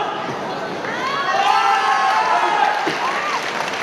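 A crowd at a wushu sanda match in the men's 75 kg class applauds and cheers, a sustained roar of clapping and voices with some shouting mixed in.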